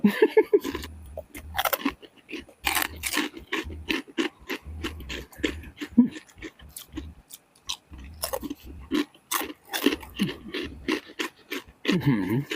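Crispy squid rice crackers crunch loudly and close up in a steady stream of bites and chews, with brief pauses between mouthfuls.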